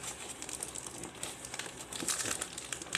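Plastic packaging from a Lazada parcel being crinkled and torn open during unboxing, a continuous close rustle that grows denser and louder toward the end, with no talk.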